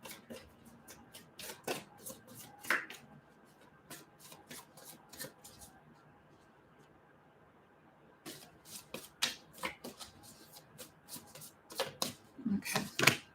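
Tarot cards being shuffled by hand in bursts of quick, crisp riffling flicks, close and fairly quiet, with a pause midway before another run of rapid shuffles.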